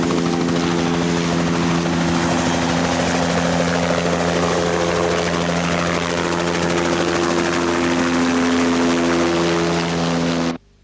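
A rescue helicopter's loud, steady rotor thrum and whining engine close by, sustained throughout before cutting off abruptly at the end.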